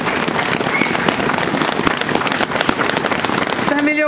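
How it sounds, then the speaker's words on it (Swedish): A concert audience in Stockholm's Gamla stan gives warm applause, dense continuous clapping that fills the space, with a tonal instrument note creeping in at the very end. "En varm applåd."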